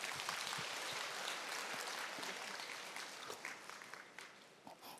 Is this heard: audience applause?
yes